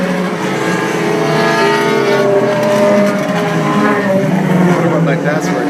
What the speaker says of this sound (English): Fourth place now, the sister car to the leader, Paul